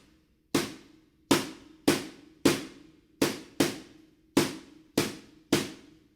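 Latin clave rhythm played on a drum: nine sharp, dry, close strikes in a syncopated repeating pattern, each decaying quickly into silence.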